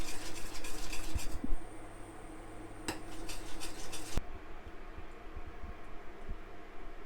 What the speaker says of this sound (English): So you want to bring this gently to the boil whilst giving it quite a bit of stirring.